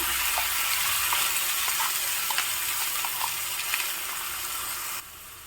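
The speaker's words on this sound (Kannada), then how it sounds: "ಈಗ ಇದಕ್ಕೆ ರುಬ್ಬಿರೋ ಚಟ್ನಿನ ಹಾಕ್ತಾ ಇದ್ದೀನಿ" Ground onion chutney goes into a hot pan of chopped garlic tempering, giving a steady close sizzling hiss with small pops and scrapes that drops off abruptly near the end.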